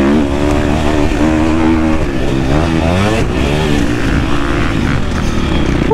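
A KTM 250 SX-F dirt bike engine screams steadily through a warm-up moto, its pitch sweeping up and down as the throttle opens and closes, loud and close throughout.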